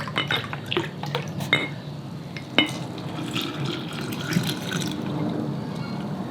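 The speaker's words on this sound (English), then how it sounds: "So that 1 cup of milk is going in." A cup of shelf-stable milk pours into a bread starter for Amish friendship bread, a steady close liquid stream with small drips and a few light clinks against the container.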